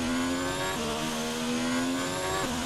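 Steady high-pitched whine of an F1 race car engine in the F1 2019 video game at the Australian Grand Prix in Melbourne, held at near-constant revs with brief dips at quick upshifts.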